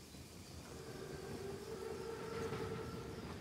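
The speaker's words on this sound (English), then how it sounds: "Train's right on time." An armored German train rumbles through a World War II game level, a steady low rolling drone with a faint sustained tonal whine above it, building slightly in loudness as it draws closer.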